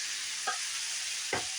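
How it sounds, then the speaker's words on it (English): Cooked spaghetti goes into a hot pan, producing a steady hiss of sizzling with two soft stirring scrapes, one brief and one fuller, close up and without talk. "now I'm going to add my pasta"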